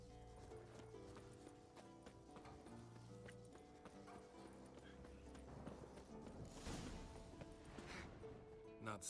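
Horse hooves clip-clop steadily in The Witcher 3: Wild Hunt, a continuous run of hoofbeats mixed into dense game music and ambience throughout.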